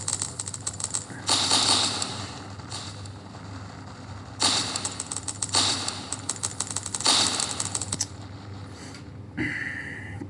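Rapid bursts of game gunfire and explosions crackle in loud repeated clusters over a steady background hum, with brief pauses between volleys and a short electronic tone near the end.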